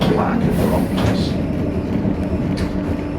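A Christchurch city tram running through the streets, its low rolling rumble steady and close, with faint squeaks and clicks above it and a voice murmuring over the noise.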